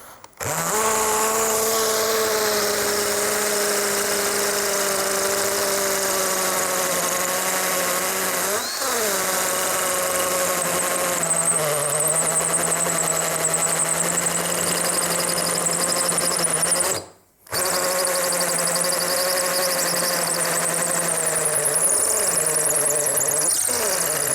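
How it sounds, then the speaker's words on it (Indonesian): A Tekiro CD-HD2047 12V cordless hammer drill bores into a concrete paving block with a loud, steady, close whine and rattle, sustained for over twenty seconds with two short pauses, and no talking. "Ini konblok atau paving ya. Kita langsung bor."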